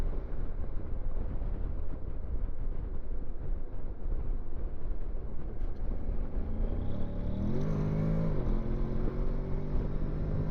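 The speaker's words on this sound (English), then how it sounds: "We're going to stick her in sports mode." A Honda NC750X DCT motorcycle ridden in sports mode gives a steady, low engine drone mixed with wind rush, then a rising rev with shifting pitch near the end, all close and without talk.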